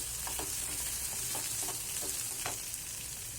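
Turmeric frying in hot oil with capsicum in a pan, a constant dense sizzle with a few faint soft stirring taps.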